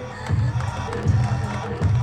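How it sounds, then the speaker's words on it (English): A crowd applauds and cheers steadily for about two seconds at a ceremony, with no speaking voice over it. "Sous vos applaudissements s'il vous plaît."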